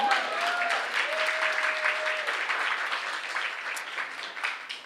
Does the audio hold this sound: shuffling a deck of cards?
no